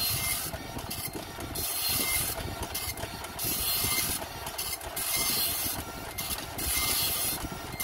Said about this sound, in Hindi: देख सकते हो प्रिंटर फायर हो रहा है